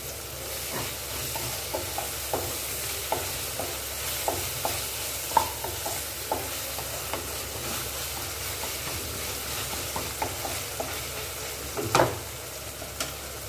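Ginger-garlic paste with coriander leaves frying in a pan for a thick salna: an even sizzle punctuated by repeated rhythmic scrapes and knocks of stirring, close and moderately loud, with one sharper clatter near the end.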